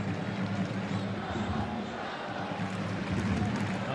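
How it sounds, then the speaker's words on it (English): Newcastle Jets supporters fill a football stadium with a broad, steady roar of crowd noise and applause during an A-League match against the Central Coast Mariners, heard as a distant, continuous wash. "To rapturous applause from those Jets supporters."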